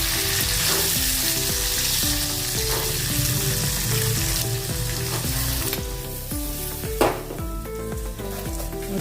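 Green peas are frying in melted butter in a pan, giving a loud continuous sizzle with intermittent stirring scrapes and light utensil knocks, and no one speaks.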